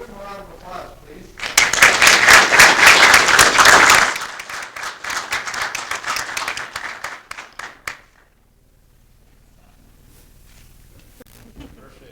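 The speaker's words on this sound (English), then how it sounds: "Give him a round of applause, please" Applause breaks out at a Shelton city commission meeting for a newly sworn-in city police officer, loud and dense for a couple of seconds, then thinning into scattered claps before fading to quiet room tone.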